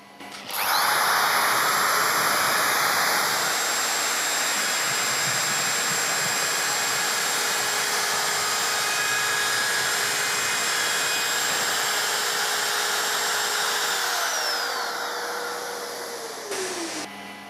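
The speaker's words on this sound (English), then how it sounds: "now we're ready to trim the edging" A Festool OFK 700 edge trimmer with dust extraction attached whines steadily and loudly while trimming edging, a continuous high motor drone that holds for about fourteen seconds before spinning down.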